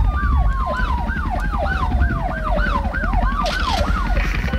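A wailing siren sweeps rapidly up and down in a fast repeating yelp, loud and close, over a rumbling vehicle engine.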